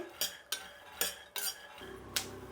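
Urad dal is roasted in a pan and stirred with a metal spoon, giving five or six separate, quiet clinks and scrapes at a loose, uneven pace.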